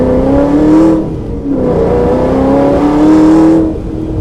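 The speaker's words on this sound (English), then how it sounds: "we're going to have to launch from this light to get up to speed on the freeway" An 800 whp Ford GT launching from a light onto a freeway, engine roaring loud and close as it revs up through gears in rising sweeps with brief dips at shifts, no talk over it.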